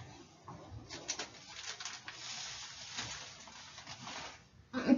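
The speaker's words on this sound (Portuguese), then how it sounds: "me digam qual é esse passarinho" A small bird calls in a few repeated cooing, warbling phrases at moderate volume while a person talks over it.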